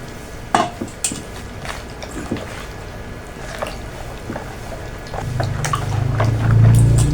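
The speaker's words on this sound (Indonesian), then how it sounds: "Kalau udah kita siap tuang air gulanya sedikit demi sedikit ya." Palm sugar syrup and coconut milk are poured into kue pasung batter in a bowl, with scattered clinks of a utensil against the bowl and soft stirring, then a steady low pouring swell near the end, close by, with no talking.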